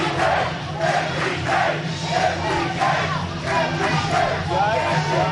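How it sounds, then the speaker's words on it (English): Wrestling crowd at an IWA Mid-South show chanting in unison, a loud rhythmic chant repeating in regular bursts that fills the arena. "You hear a huge MDK chant."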